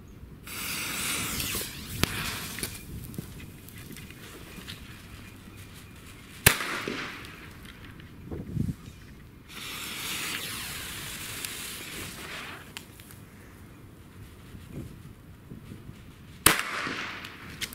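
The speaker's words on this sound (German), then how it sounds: "Sind auf jeden Fall ganz gute Reibkopfknaller. Kanonenschläge auch in Ordnung." Friction-head firecrackers and cannon crackers go off outdoors, giving sharp isolated bangs spaced several seconds apart, with hissing fuse and spray noise filling the gaps and no talk.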